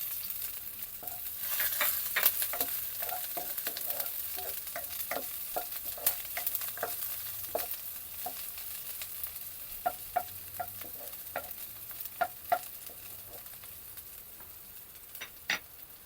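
Onion sautéing with garlic fried golden brown in a pan for adobong balut, a steady close sizzle broken by scattered sharp clicks and spatula taps against the pan.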